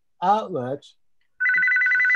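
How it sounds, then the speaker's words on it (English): A phone rings with a steady electronic tone that starts after a person briefly speaks and then sustains, clear and fairly loud. "That's my phone ringing,"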